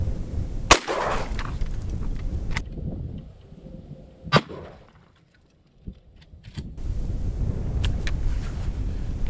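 A Maverick 88 pump shotgun fires outdoors in cold, windy conditions: a few sharp, loud blasts several seconds apart, each with a short ringing tail, against a backdrop of wind noise and no speech.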